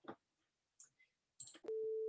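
A steady sine wave tone plays in Ableton, coming in after a few soft clicks and brief noises, then holding as a loud, pure unbroken pitch to the end.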